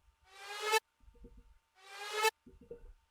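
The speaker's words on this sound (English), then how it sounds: "it pitches up and it sounds like this with the automation." Future bounce style synth lead made in FL Studio, its note automated to pitch up from E to A. Two bright, buzzy bursts of about half a second each ring out clearly, and each is followed by a run of low, thumping hits.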